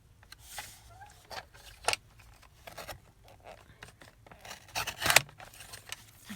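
Ledger paper being cut down by hand, with several short crisp scissor snips and paper scrapes coming in uneven bursts, close and moderately loud, with quiet handling between the cuts.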